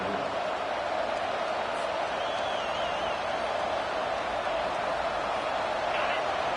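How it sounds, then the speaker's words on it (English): Stadium crowd at a Texas A&M vs TCU college football game, a dense, steady roar that stays loud and unbroken throughout, with no distinct voices standing out. "The roar of the crowd trying to fuel this defense to keep them pinned in their own end"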